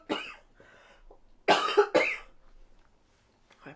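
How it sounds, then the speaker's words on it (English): A person indoors coughs several times, close and fairly quiet, with two harsh bursts in the middle and a soft fan hum in the background. "Apologies, I'm going to cough again."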